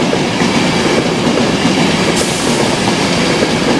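An East Coast class 91 electric locomotive, 91108, passing through Doncaster station: a loud, steady roar of rolling stock close by, with continuous wheel rumble and rail noise throughout.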